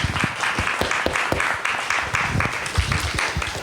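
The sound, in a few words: audience applauding the presenters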